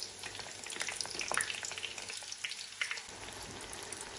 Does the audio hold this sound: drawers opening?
no